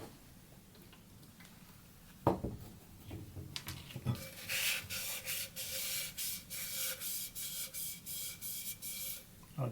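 Acetone is rubbed around the inside of a resin tumbler in quiet, rhythmic strokes, a soft repeated swishing scrub, with a few sharper knocks and clicks from handling the cup beforehand.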